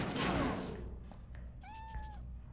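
A cat meows in a video game, a short rising-falling call over steady game noise with a few thumps, the cry fairly clear above the busy background.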